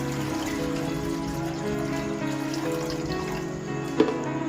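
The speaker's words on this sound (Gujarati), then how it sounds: "હવે આપણે આમાં પાણી નાખીશું બાફવા માટે" Water runs steadily and pours into a pot for steaming rolled patra, for several seconds, with a brief clink of metal near the end.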